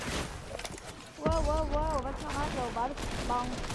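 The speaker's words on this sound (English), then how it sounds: "Whoa, who's shooting at us?" Gunfire in the video game Fortnite, a burst of rapid shots under excited voices talking over game audio.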